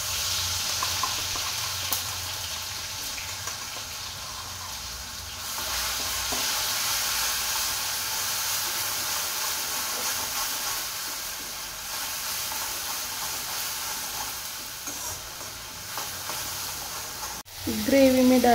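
Continuous sizzling of a tomato and garlic masala frying in a pan, with occasional stirring sounds, a sharp clatter near the end, and a voice briefly heard at the close.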